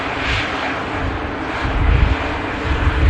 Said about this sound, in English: It is United Airlines Flight 777-300 the large aircraft.